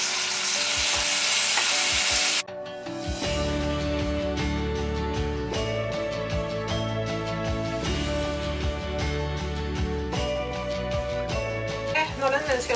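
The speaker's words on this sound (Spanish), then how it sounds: "en este momento ya vamos a agregar el espagueti" Spaghetti goes into a pan of sizzling fried bacon, a loud steady frying hiss that is briefly interrupted, then resumes with stirring scrapes and clinks of utensils against the pan.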